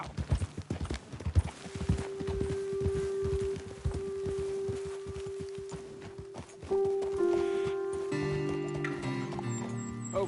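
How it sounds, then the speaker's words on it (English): Horse hooves clip-clop steadily in Red Dead Redemption 2, a run of close, even hoof strikes on a road that thins out near the end as a tonal game sound and music take over. "Best leave the horses back a bit."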